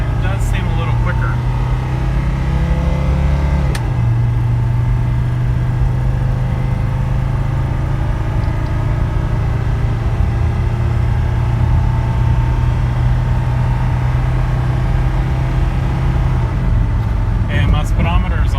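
Mercedes 300D diesel car driving and accelerating, its engine a loud steady low drone with a rising hum throughout, heard from inside the cabin while someone talks over it.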